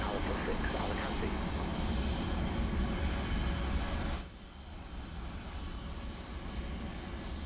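In Microsoft Flight Simulator 2024, a simulated airliner taxis at Alicante: a steady, moderate engine drone that drops to a softer hum partway through, with a voice talking over it.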